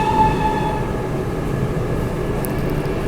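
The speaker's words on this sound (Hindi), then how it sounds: "यहीं से अभी बढ़िया क्रॉसिंग होने वाली है अपनी राजधानी एक्सप्रेस की" A Rajdhani Express train rumbles past at a crossing in India with a steady, heavy low roar of wheels and wagons, while faint tonal whines from a locomotive fade in the opening moments.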